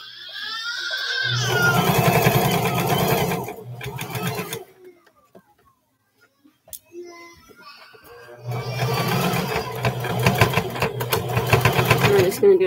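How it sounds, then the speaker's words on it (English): A home sewing machine stitches a seam on a pair of shorts, running in a steady loud whir for a couple of seconds, pausing briefly, then stopping before starting up again in another sustained run near the end. "we're just going to go ahead and sew right along there"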